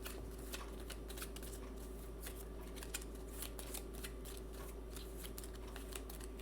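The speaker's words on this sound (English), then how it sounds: "These 3 get shuffled up." Playing cards for the 51st State board game, Moloch expansion, being shuffled in a long steady riffle-and-rustle of close papery flicks under a low constant hum, with no one talking.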